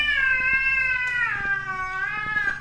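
Two black cats fighting, with loud sustained yowling and caterwauling that rises and wavers close by, with faint background clatter and no talking.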